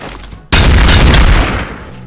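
AK rifle gunfire in Garry's Mod: a sudden, very loud burst of rapid automatic shots that lasts about a second before tailing off, close and harsh.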